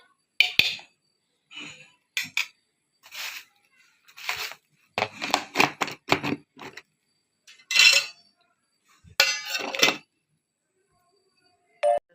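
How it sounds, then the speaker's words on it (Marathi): Garlic crushed by hand for a liver dish, a series of sharp knocking and clinking strikes in uneven bursts, close and fairly loud, with pauses between groups of blows. "अजून लसूण ठेचून घ्यायचं आहे"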